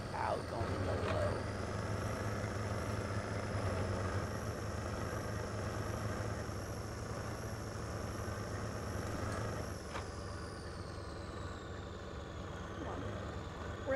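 A Chevy Colorado pickup in the video game SnowRunner, driving a desert racetrack, gives a steady engine drone with a high whining tone that holds and then shifts pitch near the end, with faint occasional clicks.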